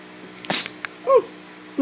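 A single short, sharp sneeze bursts out nearby, followed by a brief soft squeaky sound in an otherwise quiet room.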